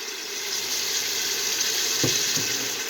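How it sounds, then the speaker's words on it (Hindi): Vegetables stir-frying in avocado oil for macaroni, a steady close sizzle with a brief clink of a utensil near the end. "मैं वेजिटेबल स्टर फ्राई कर रही हूँ मैक्रोनी के लिए।"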